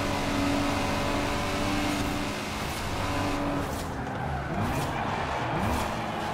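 Car skidding in Forza Horizon 4 during a spring seasonal trial in cockpit view, a loud steady engine drone with tire squeal and sliding noise building in the second half.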